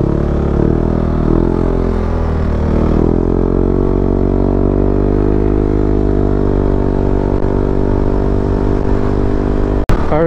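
A scooter motorcycle fitted with new flyball CVT rollers runs along a road, its engine droning steadily and loudly at a fairly even pitch, then a sharp click near the end.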